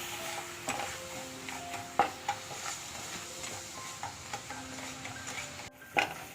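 A spoon stirs melting sugar in a pan for caramel, with soft scraping strokes and sharp metallic taps against the pan at irregular intervals under a faint, steady hiss.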